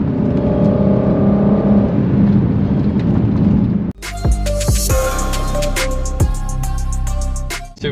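A Mercedes-AMG GLC 63 S Coupé V8 roars hard under acceleration, a dense rising engine note, then shifts into a brighter, crackling revving tone with sharp pops, loud and close throughout.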